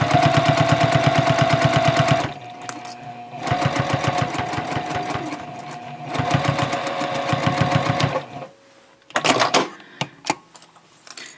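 Close, loud sewing machine running seams on a fabric tote bag in three long rapid-fire bursts of stitching with short pauses between, followed by a brief final spurt.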